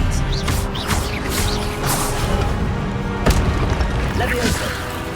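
An Expelliarmus disarming spell fires in the Hogwarts Legacy video game, sounding as sharp booming bursts and whooshes over a busy battle mix, with a voice shouting spell names throughout.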